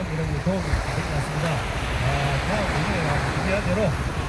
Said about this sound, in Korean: 파도 소리가 정말